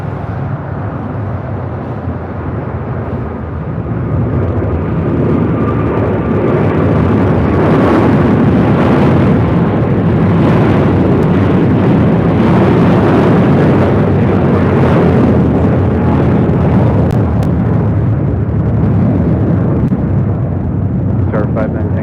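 An airliner lands on runway 25 Left at LAX, its broad jet roar swelling and holding loud and steady while people talk over it.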